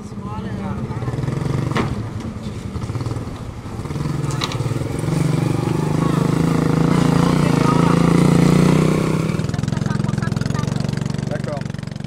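A powerful motorized pirogue engine drones steadily on the Sai San river, a loud, continuous low rumble that swells slightly midway, with voices talking over it.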